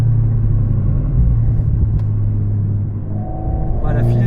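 A car driven on light, steady throttle during a driving lesson, its engine a continuous low rumble close by, easing slightly near the end as a faint higher tone creeps in.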